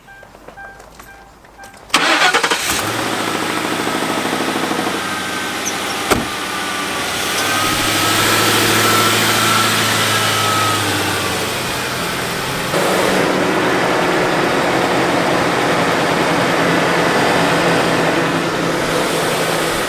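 A Ford Crown Victoria engine cranks and catches after a quiet opening, then settles into a steady, loud idle close by, with the pitch shifting slightly as it runs.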